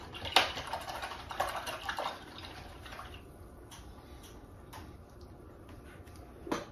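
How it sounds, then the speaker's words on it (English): A paintbrush rinsed in a water cup during acrylic painting, with close, soft sloshing and tapping clicks that fade into quiet light drips. "I'm going to rinse my brush out."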